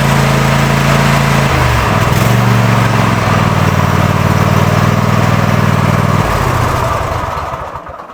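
A lawn mower engine, jump-started, runs steadily at close range with a low droning hum, wavering partway through, then cuts off and winds down near the end.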